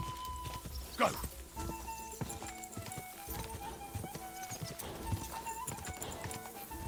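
Horse hooves pound in a fast clip-clop gallop in the medieval video game Kingdom Come: Deliverance II, with a whinny early on and someone shouting over the hoofbeats.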